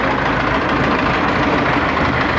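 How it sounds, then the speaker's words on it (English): A neighbor's tractor moves outdoors near a wood-frame house, its engine a loud, steady rumble that holds throughout with no one talking. "we got the neighbor's tractor moving out here"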